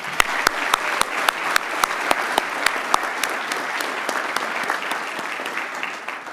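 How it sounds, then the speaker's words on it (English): A crowd applauds a speaker at a police academy graduation ceremony, steady clapping filling the room with sharper individual claps standing out, sustained for several seconds. "Can we give another round of applause for Kate?"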